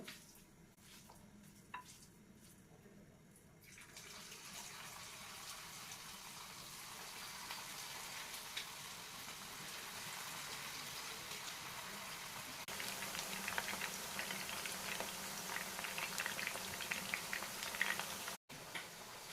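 Chicken pakodi pieces sizzle steadily in hot oil, a dense crackling hiss that swells and brightens partway through as a second batch goes in, continuing without speech until a brief cut near the end.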